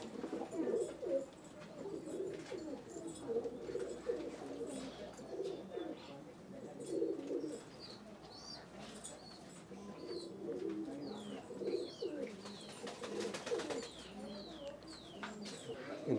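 Racing pigeons in a loft coo softly and continuously in overlapping murmurs, with scattered chirps and a low room hum, fairly faint throughout.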